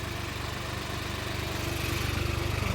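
Tractor engines strain while hauling loaded soil trolleys at a gurdwara langar hall construction site, a steady low diesel drone that swells slightly louder toward the end, with no talk.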